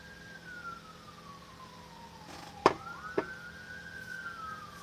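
Emergency vehicle sirens wail a block away in a city, a steady falling and rising tone that is faint and distant, with two brief sharper knocks close by.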